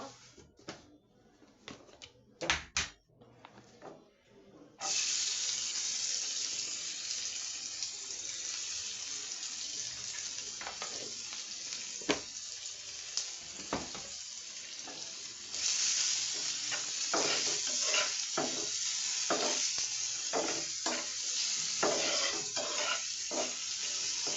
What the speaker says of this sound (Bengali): এখন ডিমটা ভুনা করার জন্য তেল দিয়ে দিচ্ছি পরিমাণ মতো। পেঁয়াজটা দিয়ে দিব।